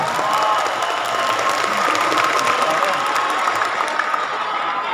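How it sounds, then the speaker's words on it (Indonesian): Large crowd applauding at a rally marking 25 years of reform in Indonesia, a dense, continuous wash of clapping with some cheering, loud and sustained throughout. "Tepuk tangan untuk para pejuang reformasi kita."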